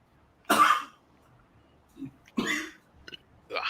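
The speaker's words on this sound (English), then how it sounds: "I was coughing." Several coughs in a row, the first and third loud and harsh with smaller ones between, close to the microphone against a quiet room.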